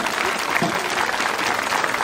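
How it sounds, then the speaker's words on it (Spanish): Crowd applause at an outdoor religious celebration on a sports court, dense continuous clapping from many people, loud and steady throughout. "Un aplauso fuerte."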